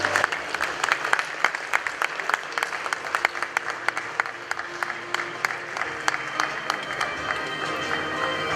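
Sustained audience applause fills an awards ceremony hall at the Ghana Journalists Association media awards, dense steady clapping with sharp individual claps standing out, fairly loud and continuous throughout with no talk over it.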